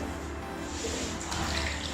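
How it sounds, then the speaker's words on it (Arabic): Water runs steadily into a baby's bath, a quiet, even rushing stream with no talk. "يلا بس نحط مية شوية"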